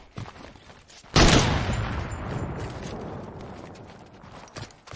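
A sniper rifle shot in Fortnite: one sudden loud crack followed by a long rumbling echo that slowly fades, with quieter clicks and small taps before and after.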